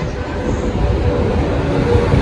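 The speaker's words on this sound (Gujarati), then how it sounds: "જો ટ્રેન આવી છે." Train pulling into a railway station, a loud, steady low rumble and rolling drone filling the whole stretch without a break, with faint voices from the platform underneath.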